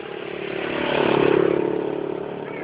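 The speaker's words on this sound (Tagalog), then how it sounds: "Tol, tabi ka sa motor, Tol. Baka mabangga ka." A motorcycle engine passes nearby, its drone swelling to a peak in the middle and then easing off, with faint clattering underneath and no talking.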